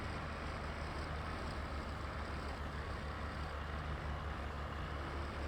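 A White 155 tractor engine in Farming Simulator 22 runs at a steady, droning idle, a constant low rumble with a harsh, broad hiss over it and no changes in pitch or pace.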